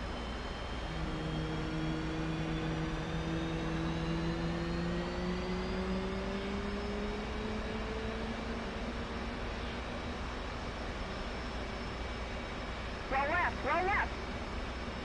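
F/A-18C fighter jet engine spooling up during a cold start, a steady roaring rumble with slowly rising whining tones, close and continuous, with a brief burst of chirping near the end.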